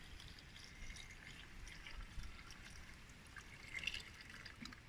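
Water trickles and drips faintly as it is poured into the tank of an Arctic Cat 700 diesel quad bike, a soft, steady liquid sound with no speech over it.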